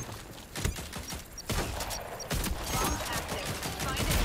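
Shotgun blasts in a team shooter game boom out as several sharp, loud shots spaced through the stretch, mixed with mechanical clatter and game noise.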